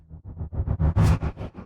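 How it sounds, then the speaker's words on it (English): A muffled stutter effect for a motocross commercial: about ten dull, rapid pulses that grow louder toward the middle and then fade, heavy in the low end with a boxy, smothered tone, heard alone. "and the last one is a more muffled stutter."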